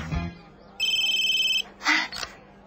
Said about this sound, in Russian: Прости, важный звонок.